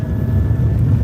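Car drivetrain whine while driving at highway speed, a thin steady high-pitched tone over a low rumbling road and cabin noise, brief and continuous.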